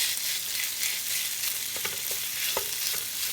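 Beef strips browning in a skillet give a steady, bright, close sizzle, with a few soft utensil taps and scrapes near the end and no speech.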